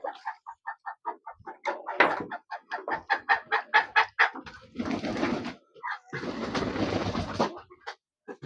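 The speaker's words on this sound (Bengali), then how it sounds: "আপনারা দেখবেন যে আমার হাঁস মুরগিগুলা কি অবস্থায় আছে" Ducks and chickens on a duck farm where floodwater has only just receded call close by: a quick run of clucks and quacks, then two longer, noisy bursts of squawking or flapping.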